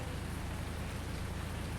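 Steady rain pouring down in the farming game Farming Simulator 19, a dense even hiss of drops on surfaces with no talk and no break in its level.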